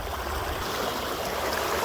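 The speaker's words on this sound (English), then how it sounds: "you can see this high speed, high volume water that's flowing through the Yakima here" Fast, high-volume water of the Yakima River rushes by in a constant, dense hiss and roar, close and steady throughout with no voices.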